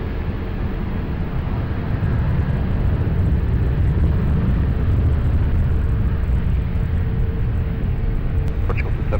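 A jet airliner taking off at Lisbon Airport, a steady broadband roar with deep low rumble holding loud and constant throughout, heard from a distance with no pause.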